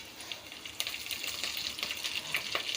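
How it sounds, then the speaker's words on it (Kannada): Curry leaves and slit green chillies frying in hot oil, a steady close sizzle with sharp crackling spatters and a few pops, no talking. "ಅದಕ್ಕೆ ಕರಿಬೇವಿನ ಸೊಪ್ಪು ಮತ್ತು ಉದ್ದುದ್ದಕ್ಕೆ ಸೀಳಿದ್ದಂಥ ಒಂದು 4-5 ಹಸಿಮೆಣ್ಸಿನ್ಕಾಯಿ ಹಾಕ್ತೀನಿ"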